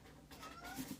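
A human voice imitates a cat's meow, one short, faint, rising-and-falling call.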